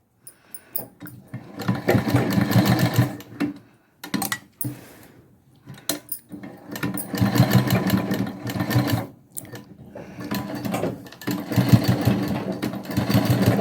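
A sewing machine stitches piping onto a curved neckline, running in several fast rattling bursts separated by brief pauses and short silent gaps, close and clear.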